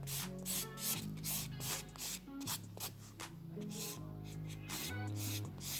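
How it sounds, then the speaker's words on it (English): A nail buffer rubs quickly back and forth over a fingernail to remove surface shine, producing faint, close, rhythmic scratchy strokes over a quiet background with some low musical tones. "I'm just going to buff over this nail just so you can see you can do either or. Just to take off that little surface shine."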